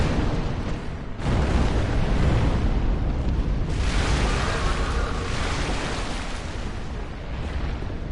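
Molotov cocktails burst into flames in the video game Bloodborne, producing loud, roaring, fiery whooshes that run almost continuously with a short dip early on and no talk.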